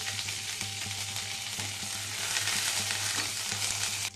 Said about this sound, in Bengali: 1 টেবিল স্পুনের মতন দিলাম ছোলার ডাল, এটাও এর সাথে একটু ভেজে নেব।